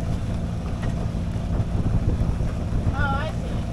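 A sailboat moves under sail in open water, with steady wind rush and water noise across the short stretch and a faint whistling tone near the end.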